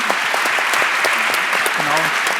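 Audience applause after a university public lecture on dreams and sleep, a full steady wash of clapping from a hall of listeners with a voice speaking faintly underneath.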